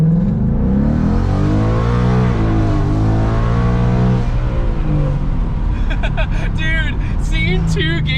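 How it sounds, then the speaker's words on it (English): On a test drive, a car's engine rises and falls in pitch as it revs and cruises, loud and near inside the cabin, with voices talking toward the end. "Now we're gonna go for a test drive."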